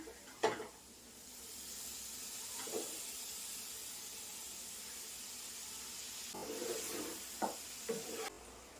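Washed prawns hit a hot pan in a home kitchen for a spiced prawn roast, giving a steady close sizzle and hiss that swells briefly when they land and again as they are stirred.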